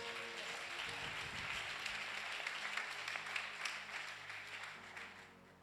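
Church congregation applauding and cheering to praise the Lord during a sermon, a steady wash of clapping across the whole stretch, fairly full and crowd-wide, with a few voices mixed in.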